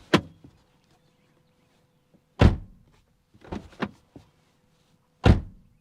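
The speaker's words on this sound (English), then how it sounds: "starting with opening and closing the door," A car door with worn bushings is opened and shut repeatedly, giving several sharp, close thunks and clunks separated by near silence.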